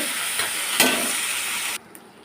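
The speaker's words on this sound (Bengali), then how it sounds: "ভালো করে একটু ভেজে নেব" Gobindobhog rice fries in ghee with a loud, continuous sizzling hiss that cuts off abruptly near the end, leaving a quiet pan.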